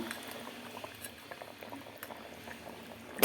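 A curry of fried sea fish simmering in a pot, a quiet bubbling and popping close by, ending in a brief loud burst of noise, with no talk.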